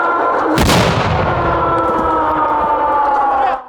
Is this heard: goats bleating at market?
no